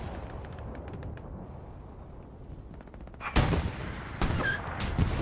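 Grenades bursting in Hell Let Loose, a competitive World War II shooter on the Pierre's Farm map: a couple of sharp, loud blasts land in quick succession over a steady rumble of distant battlefield gunfire.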